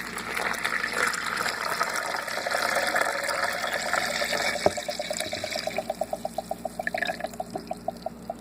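Water pours into a blender holding almond flour, a steady gushing fill that thins toward the end into a run of light, regular trickling pulses.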